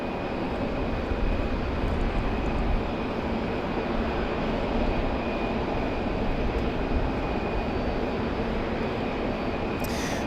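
Envoy regional airliner arriving from DCA at rainy Raleigh-Durham International, a steady broadband engine roar holding at even loudness for the whole stretch, with a faint thin whine riding above it.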